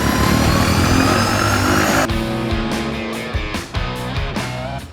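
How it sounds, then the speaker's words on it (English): An Air Tractor 802, the largest crop-spraying plane, runs at an ag pilot flight school in Mississippi: a loud, steady engine and propeller drone that drops and changes after two seconds, followed by uneven surges and pulses close by. "we'll fire it up. No You guys way. can see the startup sequence."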